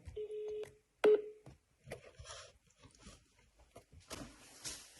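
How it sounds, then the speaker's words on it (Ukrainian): A telephone number is dialed to an appeals court in Lviv, heard as two clear DTMF key tones, one long and one short, followed by faint line noise and quiet handling sounds. "І телефонуємо ще раз."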